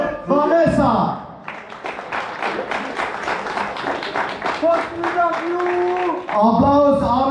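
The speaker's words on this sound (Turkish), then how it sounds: "Applaus, avlisvet alkış for Vanessa" Audience applause for Vanessa at the Miss Paradiso pageant in a hotel club in Alanya, a steady wash of clapping from a crowd lasting several seconds, framed by a presenter's voice at the start and end.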